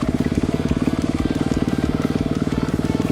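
A Kawasaki KX250F dirt bike engine revs close up while riding slowly through woods, a loud, pulsing four-stroke thump with an even rapid beat and no talk.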